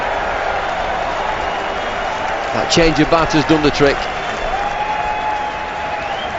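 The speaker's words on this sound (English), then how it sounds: "Listen to that cheer for this." A stadium crowd at a 2007 England vs India cricket Test match cheers loudly, swelling in a few bursts across a steady wash of crowd noise while a commentator talks over it.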